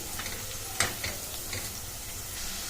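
Onions frying in a pan as they brown for a carrot and moong dal curry, a steady soft sizzle with a couple of faint utensil ticks, close and alone.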